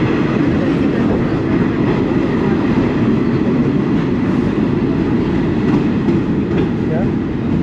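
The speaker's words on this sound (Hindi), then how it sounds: "सबवे का मतलब मेट्रो आती हुई नज़र आ रही होगी" A New York subway train pulls into a station, a loud, continuous roar and rumble of wheels on rail filling the platform from start to finish.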